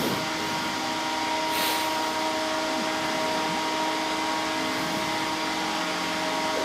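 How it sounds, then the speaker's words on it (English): The drive motor of the Alexanderson alternator at the Grimeton radio station running at full power, a loud, steady, droning hum with a whirring tone, continuous and alone. "So we will apply full power to the motor when we are at about 80 amperes."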